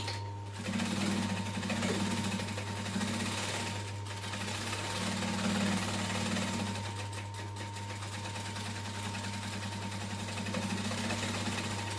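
An electric sewing machine running steadily while stitching a duffel bag seam close to the edge, a continuous buzzing hum with a rhythmic needle chatter, close and alone.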